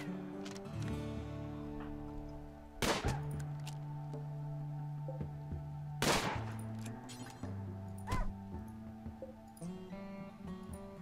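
Gunfire in the colony-building game RimWorld, several sharp bursts of shots at irregular intervals over a steady droning background tone, moderately loud with no talking.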